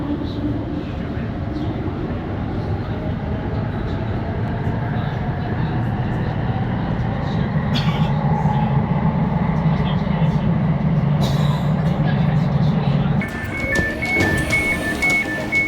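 Continuous low rumble and rattle of a moving Elizabeth Line passenger train heard from inside, steady throughout, with a brief higher tone near the end.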